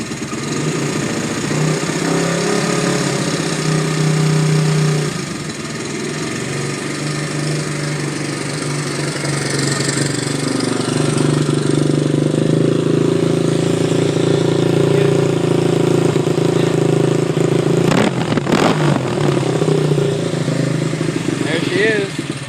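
A Honda XR100R dirt bike engine runs steadily after a cold start, a loud close buzzing idle with slight rises in revs, lasting throughout with no talk over it.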